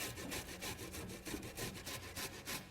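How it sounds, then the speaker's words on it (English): Peeled ginger is grated on the small side of a box grater under plastic wrap: a quiet, rhythmic rasping scrape, about ten even back-and-forth strokes, close and alone without talk. "we're just using a plain old box grater"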